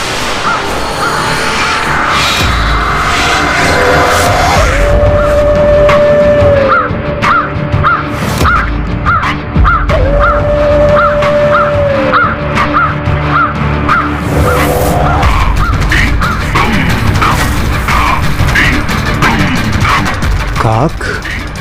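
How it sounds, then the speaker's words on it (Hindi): Crows caw in a dense mythological drama scene, harsh repeated calls rising over a loud, busy soundtrack of music and effects, with rhythmic pulses and sweeping tones throughout. "काक"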